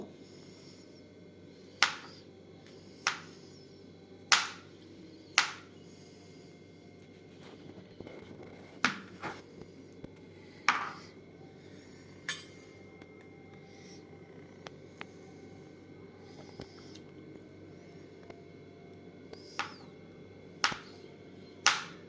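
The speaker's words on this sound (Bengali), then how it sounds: "বাকি আমি মাশরুমটা পাতলা পাতলা স্লাইস করে নেব।" A knife slices a two-to-three-day-old, slightly firm mushroom thinly on a board, giving crisp, close, irregularly spaced chops with quiet pauses between them and no talk.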